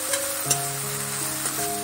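Garlic sizzles in hot tempering oil for dill greens, a short, close, steady hiss with a few light crackles and a faint scrape.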